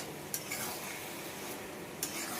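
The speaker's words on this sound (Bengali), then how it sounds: "পেঁয়াজটা বেশি করে দিয়েছি দিয়ে এরকম করে ভাজছি" Onions with whole garlic, ginger-garlic paste, tomato and spices fry softly in oil, a faint continuous sizzle broken by two sharp utensil clinks against the pan.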